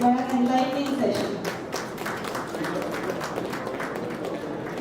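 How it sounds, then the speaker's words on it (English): Crowd applause welcoming a guest to the dais at a placement officers' conference in Telangana, a broad steady clapping after a brief voice at the start, sustained at even loudness. "Let us welcome him with a big round of applause."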